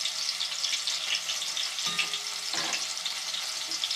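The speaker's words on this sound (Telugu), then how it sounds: "ఉల్లిపాయలు ఉల్లిపాయలు పచ్చిమిర్చి కలిపేసినాను" Onions and green chillies fry in oil for a fish curry while a utensil stirs them, making a steady close sizzle with intermittent scraping and clinking strokes against the pan and no speech.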